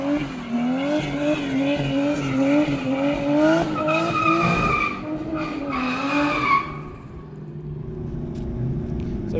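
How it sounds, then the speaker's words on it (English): A 2JZ-swapped Toyota Hilux lets out loud, wavering tire squeals over a growling engine, the screech pulsing for several seconds before fading into a lower rumble. "So we got the 2JZ Hilux versus a Megane RS."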